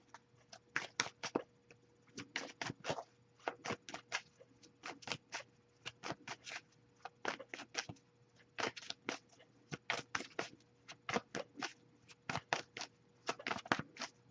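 Tarot cards are shuffled in quick, crisp bursts of riffling and slapping, repeated in irregular clusters, close but fairly quiet against a faint steady hum.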